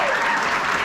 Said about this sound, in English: Let's give a round of applause to our Creative Nebraska Committee